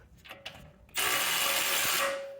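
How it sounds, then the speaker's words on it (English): An impact wrench undoes the sway bar link nut on a 2011-2017 BMW X3 F25, a few light clicks followed by a loud, close, sustained whirring burst of about one second that tapers off. "being able to undo that with the impact is ideal"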